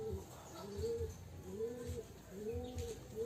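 Homing pigeons from a champion racing pair give a series of soft, repeated coos in a steady rhythm, close and clear over faint background noise.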